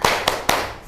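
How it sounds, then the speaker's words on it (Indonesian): A short burst of group clapping in a classroom, three sharp rhythmic claps spaced evenly, close and loud, with no voices. "Kita tepuk semangat dulu."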